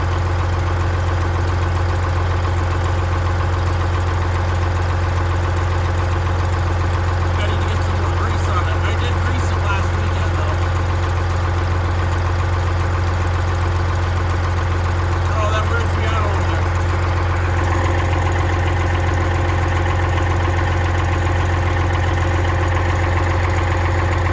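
An owner-operator truck engine idles steadily and loudly throughout while vibration is being checked, a constant low rumble with faint intermittent rattles and speech buried beneath it.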